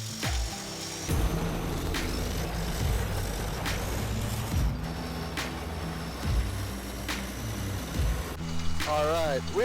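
A Caterpillar D8 dozer drives uphill with its blade raised, a heavy diesel engine rumbling and clanking mechanically up close, with sharp metallic knocks and a rising whine near the end.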